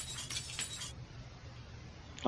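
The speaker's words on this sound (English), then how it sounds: "Remove broken glass." Broken window glass being cleared in the Project Zomboid game: a short burst of crunching, tinkling shards, a quiet pause, then a brief bright clink at the end.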